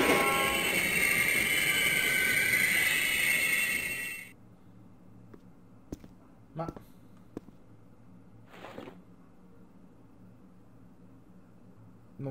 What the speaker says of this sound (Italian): Non penso che un treno si fermi con questa velocità.